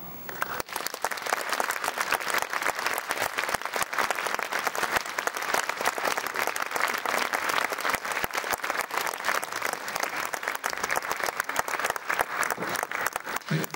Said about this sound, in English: I haven't told you to stop clapping.